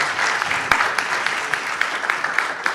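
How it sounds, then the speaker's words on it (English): Conference attendees at an accounting alumni event at ATU Sligo give a speaker a warm, steady round of applause, with a few sharper individual claps standing out from the even clatter. "please give her a warm round of applause"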